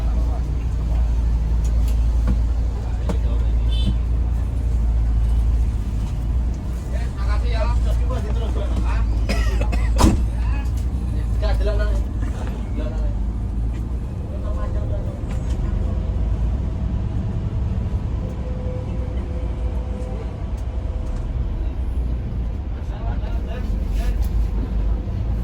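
An intercity Eka Cepat bus on the Surabaya to Temanggung route hums with a deep, steady engine rumble through congested road traffic, while people talk and an occasional cough sounds inside the cabin.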